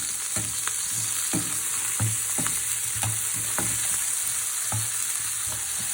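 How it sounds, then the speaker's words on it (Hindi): Green chillies, coriander stems, almonds and cashews sautéing in a pan for chicken seekh kebab gravy, a steady oil sizzle with regular stirring scrapes and taps about every second. "हरी मिर्चें और धनिया की डंडियाँ ये इसके अंदर थोड़ा सा सौटे करूँगी।"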